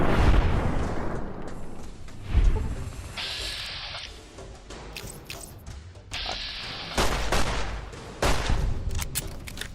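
Gunfire and explosions from the video game Fallout: New Vegas: a heavy boom opens, followed by bursts of rapid shots and crackling blasts that come and go in waves, loud and close.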